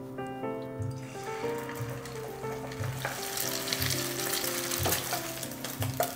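Oil heating and food frying in a wok, sizzle building to a loud steady crackle with clinks of utensils, as beaten eggs hit the oil partway through.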